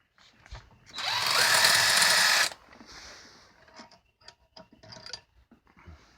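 A power tool spins out cylinder head bolts on a Hyundai 2.0 Beta engine in one loud, whirring burst of over a second, followed by quiet clicks and handling noises.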